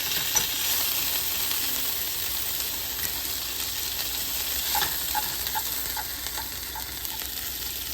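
Meat browning in a pan on the stove, seared on both sides before going into a crock pot, gives a steady close sizzle and frying hiss with faint stirring clicks.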